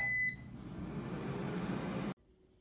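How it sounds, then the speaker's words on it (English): Air fryer cooking mushrooms gives a quick high beep at the start, then a steady low fan hum that cuts off abruptly, leaving near silence. "Now the air fryer is done cooking"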